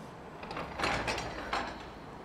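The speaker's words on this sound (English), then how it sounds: "Let the doors be opened." Heavy church doors opened at an archbishop's installation liturgy, a few faint creaking, scraping bursts in a quiet, reverberant space.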